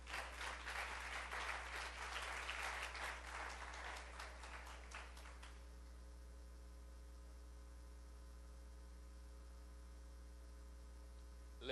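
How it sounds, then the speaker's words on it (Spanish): A church congregation claps for a few seconds during a sermon, bright and full, then stops abruptly, leaving a steady electrical mains hum droning underneath. "Le damos un aplauso a Cristo."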